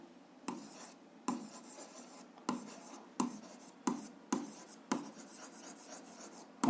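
A pen writes out the solution to an algebra exercise on paper in short bursts. Roughly eight scratchy strokes come close up and are separated by brief pauses, with no talking.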